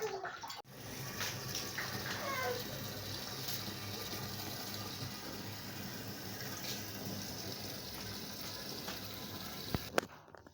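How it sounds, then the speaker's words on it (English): Water gushes steadily into a container in a rural village, a continuous rushing pour with a brief clunk near the end. "I'm where I'm going to be fetching the water now."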